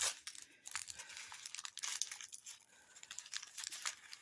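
Faint close paper crinkling and rustling as a folded, taped paper pouch is opened. Small crackles and a soft tearing texture continue throughout.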